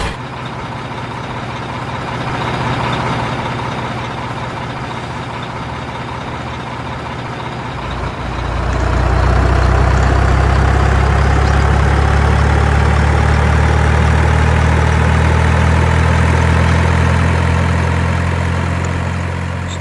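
A large dump truck's diesel engine idles with a deep, steady rumble, then revs up and holds a louder, heavier drone, close by and continuous throughout.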